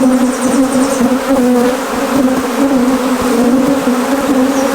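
A honeybee swarm gathers near a bee box on a farm and gives off a loud, steady, dense buzzing drone that fills the whole stretch without a break.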